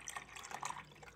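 Water is poured while making afternoon coffee, a soft trickling splash with small drips, fairly faint and close, with no talking.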